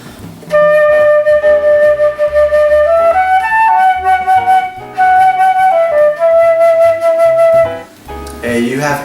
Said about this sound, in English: if you play with a non-controlled vibrato, it will sound something like this.